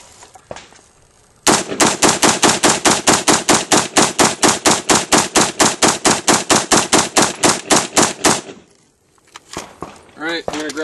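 AR rifle firing in rapid succession during a dirt and dust test with the dust cover open, around thirty loud close shots in an even rhythm, followed by quieter handling noise.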